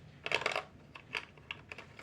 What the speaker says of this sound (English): Drop my pencil sharpener in the trash can.